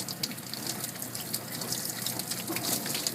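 Tap water runs steadily while a Persian kitten is rinsed during a bath, a continuous close splashing stream with no talking.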